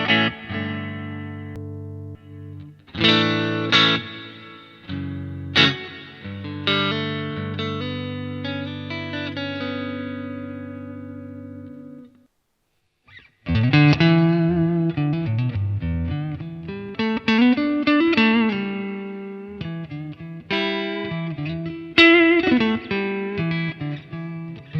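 Electric guitar played through BIAS FX Mobile amp simulations rings out: sustained distorted chords and single notes decay, then after a short gap a busier run of overdriven notes follows, loud and close with no talking.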